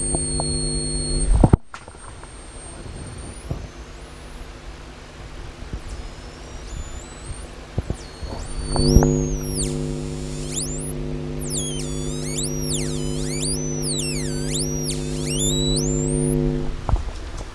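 A solid state Tesla coil sounds a steady buzzing tone at 4 kilohertz after a sharp click, continuing loud and close through the second half alongside warbling, sweeping tones.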